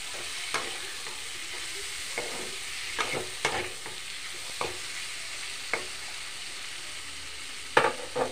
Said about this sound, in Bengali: নুন দিয়ে নাড়াচাড়া করে নেব।